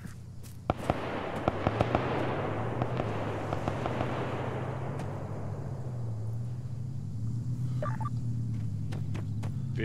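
A rocket explosion in the military shooter ArmA 3 bursts loudly with sharp cracks, then rolls into a long, fading rumble that lingers for several seconds.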